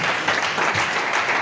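Church congregation applauding and cheering in praise of the Lord, a dense, steady crowd roar with scattered claps lasting throughout, loud and close, no clear speech on top.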